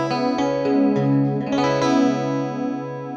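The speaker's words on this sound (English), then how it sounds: "you get more of a pristine kind of hi-fi shimmery kind of chorus sound" Sustained chorused tone with a bright, shimmering, slightly wavering sheen, steady and loud throughout, no voices.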